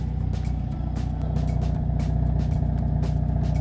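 A Hyundai Elantra N running on E30 fuel cruises along the road, its engine holding a steady, loud drone with a constant low hum and no sharp revs.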